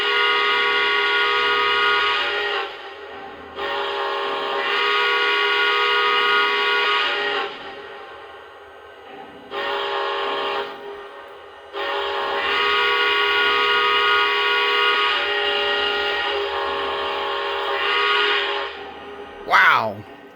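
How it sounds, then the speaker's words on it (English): A Lionel Legacy Santa Fe Northern model steam locomotive, Black Bonnet, sounds its whistle in several long, loud, close blasts with short gaps between them, ending in a brief sharp burst. "Listen to the whistle of this beautiful Lionel Legacy Santa Fe Northern, and check out the Whistle Steam King."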